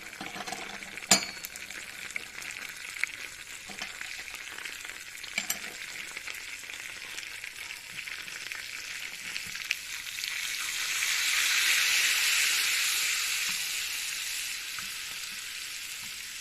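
Mint and chili powder sizzling in hot oil, a topping for pumpkin soup: steady crackling frying with a sharp clink early on and a louder hissing swell toward the end, no voices.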